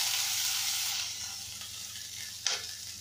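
Curry leaves, ginger and green chillies fry in a pan for a mixed vegetable curry, giving a steady hiss that softens partway through, then a brief stir or clatter near the end.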